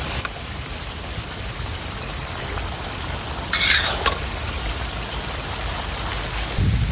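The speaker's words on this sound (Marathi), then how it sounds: "आपण आता याला असंच परतून घेऊ." Lamb testicle thecha fry being sautéed and stirred in a pan, a steady soft sizzle with scraping stir sounds and a brief louder clatter midway.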